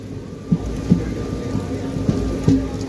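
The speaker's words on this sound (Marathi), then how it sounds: "जबरदस्त आणि मुसळधार पावसाला सुरुवात झालेली आहे" Heavy monsoon rain drums steadily on a moving train near Himayatnagar in Maharashtra, with a few dull thumps and knocks punctuating the continuous wash of sound.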